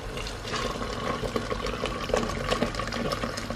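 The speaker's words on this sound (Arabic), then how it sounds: "بالماء السخون يغلي." Hot boiling water poured into a pot of chicken and vegetables on a home stove, a steady close splashing and gurgling pour running without a break, with no talking.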